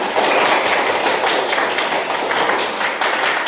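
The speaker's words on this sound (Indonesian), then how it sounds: "Tepuk tangan untuk kita semua" Students clapping together at a school, a loud continuous patter of many hands with brief rhythmic surges, close and filling the room.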